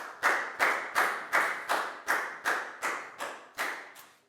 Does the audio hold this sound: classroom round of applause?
yes